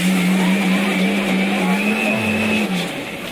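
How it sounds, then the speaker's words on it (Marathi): A mixer grinder runs on roasted spice masala in a home kitchen with a steady, close motor whine and hum, and the pitch sags slightly just before the end. "मिक्सर वळणीचा जरा आवाज येतात."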